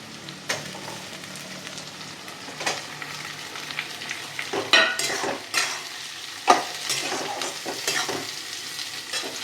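Cashews and capsicum fry in a pan for vegetable fried rice, a soft hissing sizzle punctuated by irregular sharp clinks and scrapes of a utensil stirring, growing busier toward the end.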